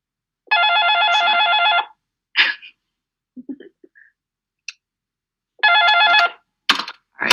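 An office telephone rings with a scam call, two long electronic ring bursts separated by a pause with faint handling noises, close and clear.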